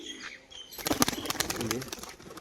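An aggressive pigeon taking flight, clapping its wings: after a quiet start, a sudden burst of rapid, close, loud wingbeats that flutters on for over a second.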